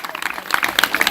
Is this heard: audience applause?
yes